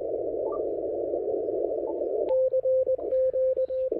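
A steady Morse key sidetone beep sounds in short keyed bursts after a stretch of 10-meter band noise, with a few rapid on-off pulses, clear and fairly close.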